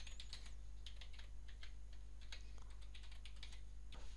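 Keys tapped on a computer keyboard while entering a password during ZoneDirector wireless controller setup, a run of light irregular clicks over a steady low electrical hum.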